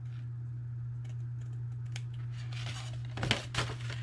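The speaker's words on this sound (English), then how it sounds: "I am just going to snip off just a little bit, not a lot, just a tiny little sliver" Scissors trim a tiny sliver from a cardboard box flap, giving a few soft snips followed by two brief, sharper crunches near the end over a steady low hum.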